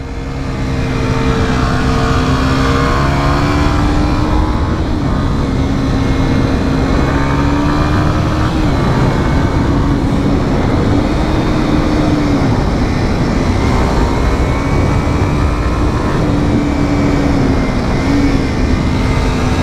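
A 2019 Kawasaki Z125 motorcycle's small engine drones steadily while riding, its pitch rising and dipping through downshifts under a constant loud wind rush, close and continuous.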